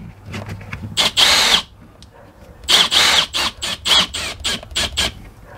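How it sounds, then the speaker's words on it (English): A power drill drives screws into RV window tension strings, loud and close. One long whir comes first, then a run of short bursts that stop and start, each with a faint squeal. "Put the screws back in our tension strings"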